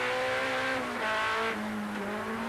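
Touring race cars, including a Luigi Racing Cosworth, race on a wet track at Zolder in 1988, engines droning loudly with shifting pitch as cars pass in close succession.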